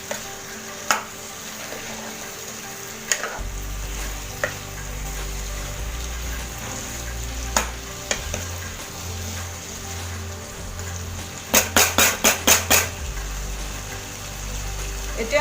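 Chicken and potato masala frying in a pan, a steady soft sizzle with occasional clinks and a burst of rapid scraping stirs near the end.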